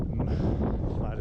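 Steady outdoor wind buffeting the microphone on flat open ground in Colombia, a constant low rumble with gusty swells throughout.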